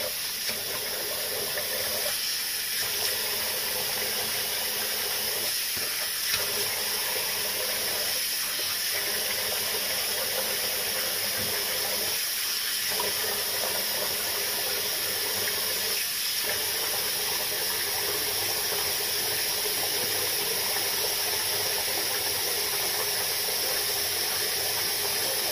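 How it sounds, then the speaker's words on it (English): Constant hiss of tap water running into a sink while a face is rinsed, close and steady throughout, with faint splashing dips now and then. "I'm going to rinse off my face"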